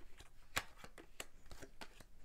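Tarot cards being shuffled and laid down give off a series of crisp, papery slaps and flicks at an uneven rhythm, close and moderately loud in a quiet room.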